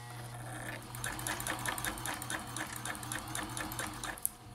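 A vintage Janome Combi DX 502 sewing machine runs a wide zigzag stitch, its needle chattering in a quick, steady rhythm over a low motor hum, fairly quiet and close.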